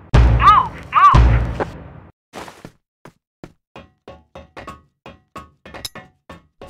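Flashbang grenade in the shooter Crossfire: two sharp bursts with a ringing tone, followed by a rapid run of short knocks and clicks in quick succession.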